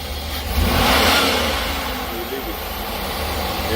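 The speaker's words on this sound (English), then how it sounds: "now I'm gonna accelerate" A GM car engine revs up under wide-open acceleration during a crankshaft position sensor relearn, a steady loud roar that swells near the start and then holds, with someone talking over it.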